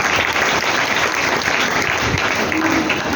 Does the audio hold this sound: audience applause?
yes